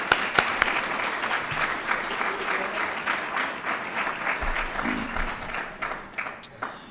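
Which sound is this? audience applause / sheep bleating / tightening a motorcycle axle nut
audience applause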